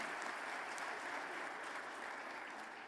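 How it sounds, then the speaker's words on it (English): A conference audience gives a round of applause at the opening ceremony of an annual meeting, sustained even clapping heard from a distance and fairly quiet, easing off slightly near the end. "I'd like to just start with a round of applause"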